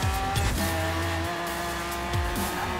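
Car braking hard in the racing video game Forza Horizon 4, with a loud engine roaring and dropping in pitch as tyres squeal under heavy braking, all close and continuous.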